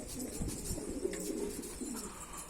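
Pigeons on a rooftop loft give low, soft cooing that carries steadily through the whole stretch, fairly faint and overlapping, with no talking.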